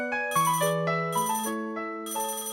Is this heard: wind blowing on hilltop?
no